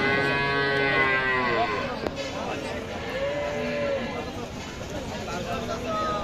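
Cows and calves low at a cattle farm in Chougachha, Jashore, Bangladesh. Several drawn-out moos rise and fall over a busy background of murmuring voices and farmyard noise.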